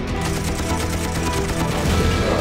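A cartoon Force Cannon from MiniForce fires in a loud, dense blast, a rapid burst of cracking shots and crashing energy packed into a couple of seconds with no pause.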